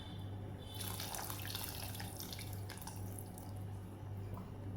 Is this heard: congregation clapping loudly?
no